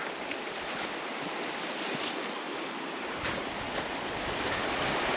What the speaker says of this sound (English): And there's the river.